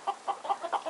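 Chickens roosting up in a tree at dusk above a barn with sheep, cows and pigs give a run of soft, rhythmic clucks, close and steady, about six pulses in a second with no talking.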